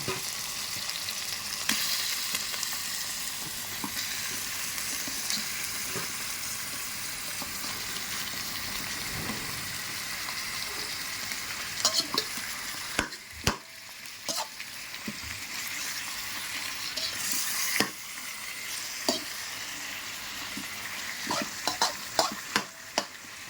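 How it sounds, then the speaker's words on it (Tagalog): Chicken pieces sizzling in a hot pan for sinampalokang manok, a steady close frying hiss with intermittent scraping and clacking as the meat is stirred, no voices. "Mix natin guys ang chicken."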